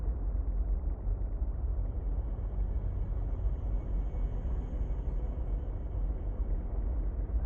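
Low, steady engine rumble of a sea truck vehicle in the underwater game Subnautica: Below Zero, a continuous muffled drone with no talk over it.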